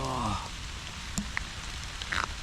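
Steady rain falling in a June forest in Polesia, a constant soft hiss with scattered drops, faint and continuous, with a brief low tonal sound at the start and small chirps over the wash.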